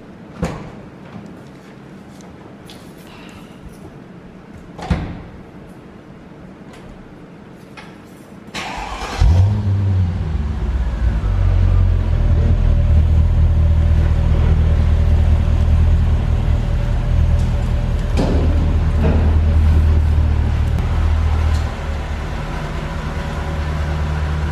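A Mercedes CL500 V8 starts with a sharp catch after a few quiet clicks, then settles into a loud, deep, steady rumble close by, with some revving swells.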